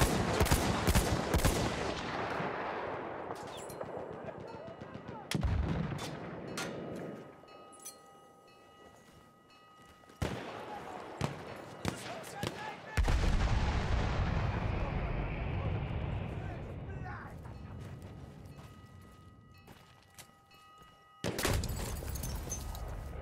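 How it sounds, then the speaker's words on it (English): Enemy machine gun fire in the video game Battlefield 1: loud bursts of rapid gunfire mixed with heavy booming explosions, cutting in and out sharply across a chaotic battlefield din. "Feindliches SMG! Maschinengewehr, eindeutig feindlich!"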